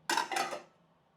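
A lid is set onto a cooking pot of salted boiling water, giving a short metallic clatter in two quick contacts that rings briefly and fades, close and isolated.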